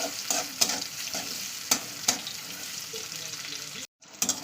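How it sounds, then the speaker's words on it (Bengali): Sliced onions fry in mustard oil in a home kitchen pan, a steady sizzle broken by sharp clinks of a spatula stirring, with one brief dropout near the end. "পেঁয়াজটা ভালো ভাজা করে নিচ্ছে"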